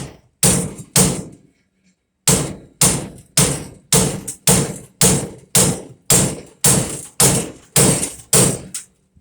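Hammer whacking a cast iron furnace section while scrapping it, a pair of sharp metallic blows, a pause, then a steady run of about a dozen evenly spaced loud strikes up close.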